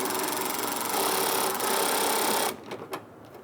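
A fast, continuous whirr of a power impact tool spins off the strut nut on a 2014–2018 Subaru Forester front strut assembly, then cuts out, followed by a few faint clicks.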